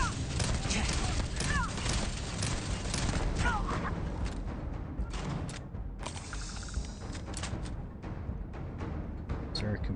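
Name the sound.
turret gunfire in video game Starfield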